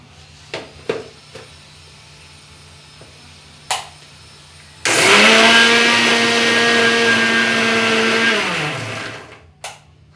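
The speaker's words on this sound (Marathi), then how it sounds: "हिरवी मिरची लसूण आणि जिरं आता आपण मिक्सरला वाटून घेऊया" A kitchen mixer grinder whirs loudly for about four seconds, grinding green chili, garlic and cumin into a coarse paste; the motor's steady drone winds down at the end after a few scattered knocks.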